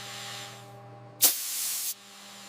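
A puff of compressed air blows out the freshly drilled channel in a pearl, a sudden sharp hiss that holds steady for under a second before cutting off, close and loud over a low machine hum.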